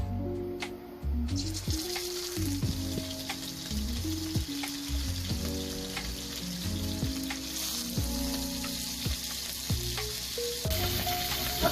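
Pork frying in a hot pan for crispy sinigang, a steady loud sizzle with crackling pops and intermittent scraping and stirring clatter, close and continuous, with no talking.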